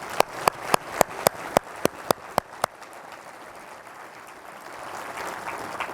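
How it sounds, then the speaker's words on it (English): An audience at a charity evening event claps in about a dozen sharp, evenly spaced beats over three seconds, then the claps give way to a low room murmur. "Please join me in giving all our sponsors one final round of applause."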